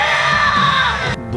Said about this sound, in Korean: 이 보컬 장법을 뭐라고 해요? 스크리밍이라고 하는 거죠.